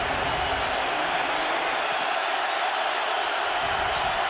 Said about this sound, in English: This crowd prides itself on the noise they can generate.